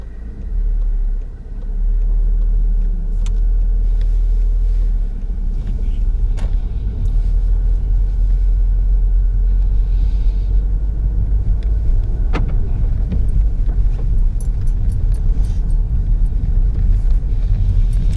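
A car drives along a road during a driving lesson, with a steady, loud low rumble of engine and tyres throughout the interior. A couple of faint clicks and knocks come through, and nobody speaks.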